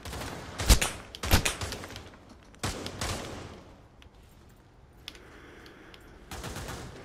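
Gunfire in the VR shooter game Pavlov: a few sharp gunshots in quick bursts, fairly close, then quieter shots later, with no talk over them.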